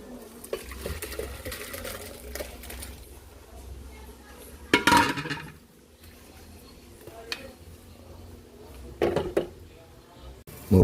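Sinampalukang manok, a Filipino tamarind chicken stew, is poured and ladled into another pot, with metal scrapes, clinks and sloshing bursts over a low kitchen hum, and a voice briefly talks.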